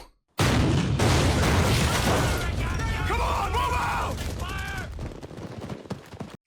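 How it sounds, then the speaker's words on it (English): Heavy gunfire and explosions from a Band of Brothers battle scene roar loud and dense, dull blasts under rapid rattling shots, then taper to scattered pops with some voices shouting in the mix. "The explosions just look so good."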